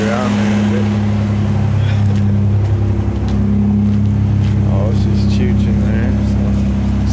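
A Mazda RX-7 with a new exhaust idles close by, a steady deep rumble throughout with light background sounds over the top.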